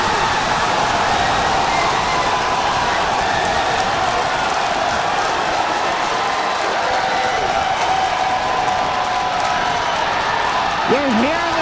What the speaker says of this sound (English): You're hearing the cheering.